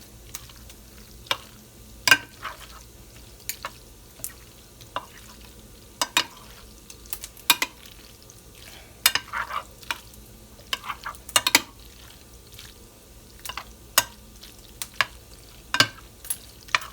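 Macaroni and cheese mixture being stirred by hand, a steady run of sharp clinks and scrapes from the utensil against the dish over a quiet background, close and fairly regular throughout.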